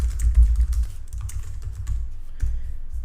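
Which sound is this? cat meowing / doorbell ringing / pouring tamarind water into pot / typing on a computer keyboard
typing on a computer keyboard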